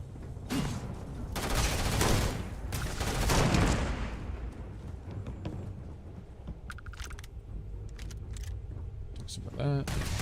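Gunfire in the sci-fi video game Starfield: bursts of rapid shots and heavy blasts, loudest early on, then thinning into scattered shots and clicks with game effects.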